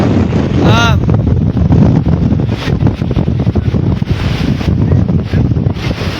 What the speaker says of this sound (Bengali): প্রচণ্ড বাতাসের তীব্রতা এবং তেমে তেমে গুড়ি গুড়ি বৃষ্টি হচ্ছে